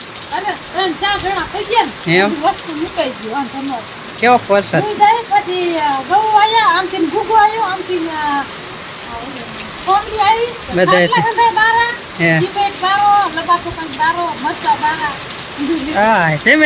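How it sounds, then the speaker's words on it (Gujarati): Heavy rain pours in a steady downpour beneath loud, nearly continuous talking by several people close by. "કેવો વરસાદ છે"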